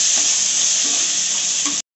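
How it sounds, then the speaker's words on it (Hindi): Onion, garlic and ginger fry in a pan as the base for a Bengali-style tilapia fish curry, giving a steady, close, bright sizzle that runs unbroken for about two seconds, with no talking. "प्याज, लहसुन, अदरक हल्की सी भून चुका है।"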